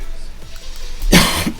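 A single short, harsh cough close to the microphone, a sudden burst of breathy noise with a faint throaty catch at its end.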